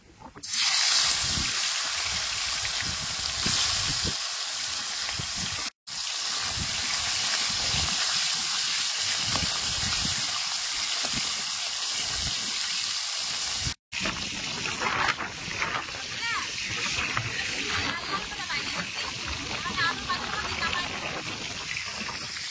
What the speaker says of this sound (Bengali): আর এই মাংসগুলো ওখানে তেলে ভেজে নেব